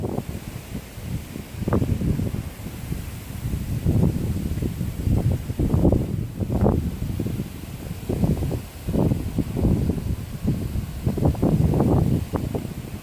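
Strong storm wind in Japan blowing in repeated heavy gusts, buffeting the microphone and rising and falling continuously with low roaring bursts.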